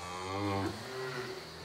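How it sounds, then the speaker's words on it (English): A herd of cows mooing, with low drawn-out bellows overlapping in a brief burst at moderate distance. "There's a big bunch of cows."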